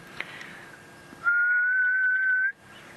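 A person whistles an imitation of the ghost bird (spookvoël) call, heard on an African wildlife drive at sunset: one long, steady, slightly rising whistled note held for over a second, loud and close, after quiet ambient sound.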